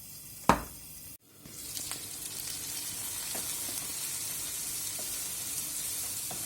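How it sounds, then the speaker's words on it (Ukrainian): Onion frying with a piece of pork fat in a pan for liver pâté, a steady close sizzle with a sharp clack near the start, a brief dip, then continuous bright crackling with occasional small pops. "Трішки обсмажилася цибуля."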